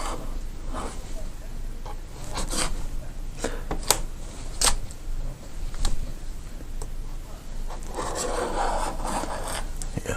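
Dried paint residue being scraped off a painting surface, heard as a series of short, close rasping strokes at an irregular rhythm, with a longer stretch of steady scraping near the end.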